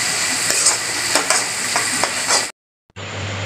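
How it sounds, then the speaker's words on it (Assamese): Ground coriander, cumin and mixed spice powder sizzle and crackle in a hot pan while being stirred for home-style rajma. Scraping strokes recur through the frying, which breaks off briefly into silence before the sizzle returns. "মছলাখিনি ভালদৰে ভাজি লোৱা হ'ল"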